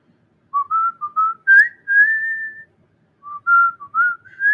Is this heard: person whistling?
yes